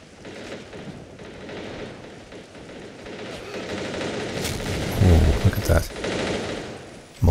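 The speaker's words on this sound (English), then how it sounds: "Mortar pounding away on the west." Mortar blasts and gunfire rumble through a tank battle in the video game A World at War, with steady distant firing building to a couple of heavy low thumps near the end.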